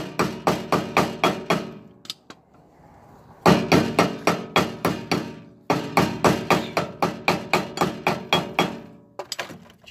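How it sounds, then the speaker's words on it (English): A steel hammer taps repeatedly on a trailer wheel hub cap to loosen it, with sharp metallic strikes in quick bursts of five to eight, close and loud, separated by short pauses. "In my case, I've got a hammer."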